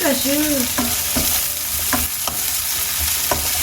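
Cashew chicken sizzles loudly in a pan with charred cashew nuts, a dense close crackle punctuated by sharp spatula scrapes and clinks against the metal, with no voices.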